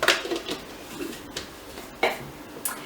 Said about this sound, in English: We're just going to give that a good stir.